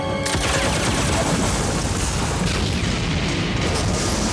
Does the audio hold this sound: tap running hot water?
no